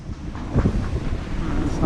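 Strong wind buffeting a boat on open water, a steady broadband rush with louder gusts swelling midway, close to the microphone and alone without speech.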